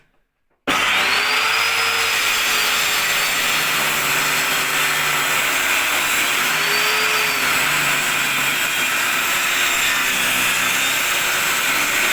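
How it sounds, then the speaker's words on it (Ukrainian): Power saw cutting wood for a homemade DIY easel, starting abruptly after a brief silence and then running as a loud, close, steady whine with gentle pitch sweeps as the blade works through the wood. "Починаємо різати."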